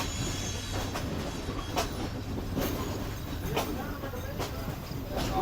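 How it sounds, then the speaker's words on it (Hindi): Leaving Karachi Cantt, the Pak Business Express with its CNR coaches runs steadily, heard from aboard as a continuous rumble broken by sharp periodic wheel clacks and light squealing, with faint voices now and then underneath. "तो फाइनली ट्रेन ने कराची कैंट रेलवे स्टेशन को छोड़ दिया है"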